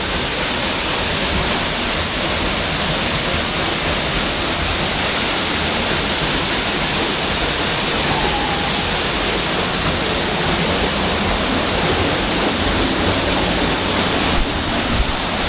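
Steady, loud rush of a cold mountain waterfall, a dense unbroken roar of falling water close by that holds evenly throughout with no voices.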